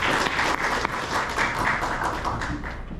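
Applause from a lecture audience welcoming a digital and administrative law expert, dense and steady clapping throughout at moderate loudness.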